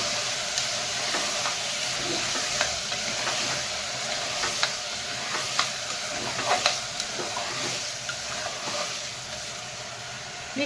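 A spoon stirs bottle gourd and dal curry in a pan after salt goes in, with scattered scraping clicks over a low, continuous sizzle and no talking.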